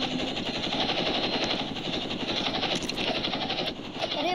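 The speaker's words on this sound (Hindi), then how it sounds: "मुझे भी तेरे हेलीकॉप्टर में बैठना है" Helicopter in the Roblox game Jailbreak, a steady whirring rotor and engine drone that stays loud and continuous throughout with no pauses.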